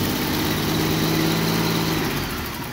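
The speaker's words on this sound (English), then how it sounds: "it's just kind of chugging around. If I raise the RPM a little, it seems to smooth out with more RPM" A Jeep engine runs close by with a rough, uneven chugging idle, then its revs rise and the sound smooths into a steadier hum.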